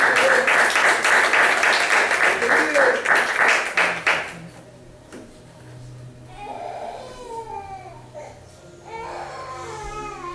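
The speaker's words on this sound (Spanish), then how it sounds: "denle otro aplauso al Señor" Church congregation applauding loudly during a sermon for about four seconds, the dense clapping then breaking off into quieter room sound with a baby crying and babbling nearby.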